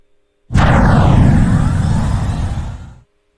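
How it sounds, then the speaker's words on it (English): A thrust sound effect for a Blade and Sorcery mod: a sudden loud whooshing burst that swells in at once, then roars with a broad noisy rush for about two and a half seconds before cutting off. "now let's just go look around for some thrust sounds like this."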